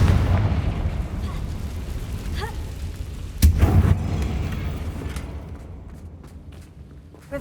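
Explosive blast from the Confringo fire spell in the Hogwarts Legacy video game, a sharp loud boom about midway that rolls off into a rumbling decay over steady low game ambience.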